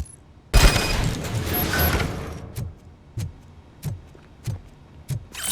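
Gunfire in Robocop Rogue City shooting out a fuse box: a dense, loud burst of shots for about two seconds, followed by several sharp, evenly spaced thuds.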